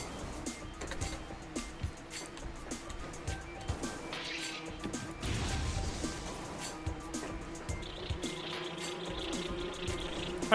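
Wasps buzz in the video game Metroid Prime, a faint, wavering drone that rises and falls over a quiet musical backdrop for about ten seconds, with no talking.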